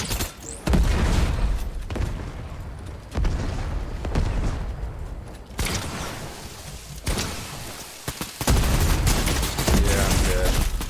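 Gunfire in the Fortnite video game: dense rapid bursts and booming shots repeat loudly for the whole stretch, with brief lulls between volleys and faint talking underneath.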